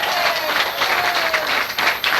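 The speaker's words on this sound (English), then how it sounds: "Let's give another round of applause to Alex, please." A comedy club audience at JB Winchells breaks into sustained, dense applause that stays loud throughout, with a voice faintly present beneath the clapping.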